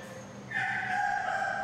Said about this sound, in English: we happen to have a rooster here